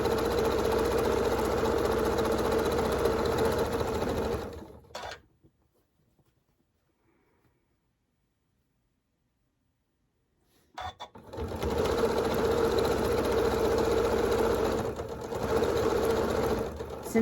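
Sewing machine stitching a quarter-inch seam on a scrap quilt, a fast steady mechanical whir with rhythmic needle chatter, close and loud, stopping for a silent pause of several seconds before starting again.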